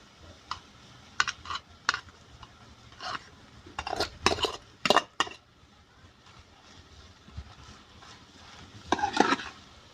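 A spatula stirs leftover rice into a vegetable tadka in a pan, giving scattered scraping clinks and short rattling bursts, clustered around the middle and near the end, separated by quiet gaps.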